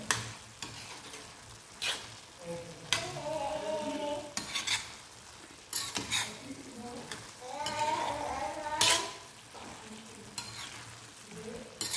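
Bottle gourd curry being stirred in a pan, with repeated scraping stir strokes over a steady low sizzle, close and moderately loud, with brief faint voice sounds in between.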